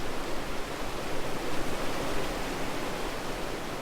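A valley stream on Ulleungdo rushes between snow-covered rocks in winter, a dense, steady wash of flowing water close by, with no talk over it.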